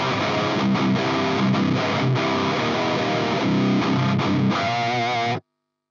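Electric guitar played through the Helix Angel Meteor amp model into a 4x12 Engel cabinet with Celestion V30 speakers: a dense, heavily distorted riff that stays loud and steady before cutting off abruptly near the end.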